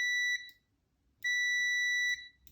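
A multimeter beeps in continuity mode while testing an endstop switch on a Voron 2.4 3D printer: two steady, shrill tones, the second longer, with a quiet pause between.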